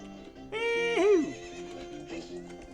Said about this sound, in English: But I like riding horses.